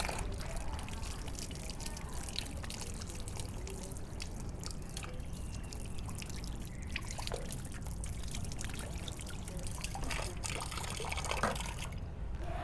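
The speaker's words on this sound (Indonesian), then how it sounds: "kemudian kita bilas" Tap water runs steadily as hands are rinsed during a handwashing demonstration, a continuous close splashing rush with small drip-like spatters throughout and no talking.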